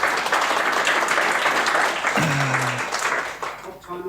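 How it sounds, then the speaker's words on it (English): A conference audience applauds a panel speaker at a solar energy session, steady dense clapping filling the room throughout, with a brief whoop rising midway and the applause thinning slightly toward the end. "Can we give a big clap for Nicky and make it double as big"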